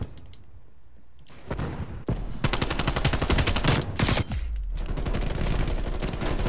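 Rapid automatic gunfire from Call of Duty: Black Ops Cold War in a Hardpoint match, dense bursts of close, loud shots following a quieter opening, with brief gaps between volleys.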